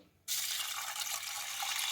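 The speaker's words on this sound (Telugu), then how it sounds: "నీళ్ళు పోసి ఒకసారి కడుక్కోవాలండి" Water pours steadily into a pot of pigeon pea lentils (toor dal) for rinsing, starting abruptly and then running as a continuous close splashing rush with no talk.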